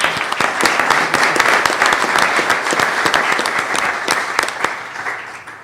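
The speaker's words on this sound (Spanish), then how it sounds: "Un aplauso, por favor, para Gildardo Contreras Palacios" Conference audience applauding a genealogist's introduction at a molecular genealogy lecture: dense, steady clapping from a sizable crowd, filling the room evenly without a break.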